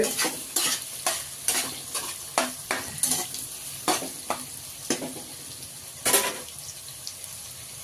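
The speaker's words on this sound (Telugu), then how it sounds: "ఇవి బ్రౌన్ కలర్ వచ్చేంత వరకు వేపుకోవాలండి" Onions fry for an egg masala curry while a spoon stirs them in a pan, scraping in a steady, uneven rhythm of sharp strokes over a soft, continuous sizzle.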